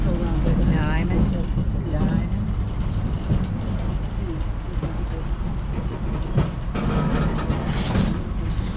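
A museum train rumbles over a track diamond where two tracks cross, with rhythmic clicking and clacking of wheels over the joints, while a person talks over the noise.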